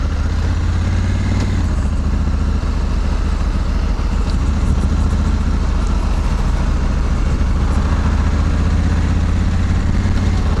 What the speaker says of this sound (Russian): Как классно кататься на мотоцикле.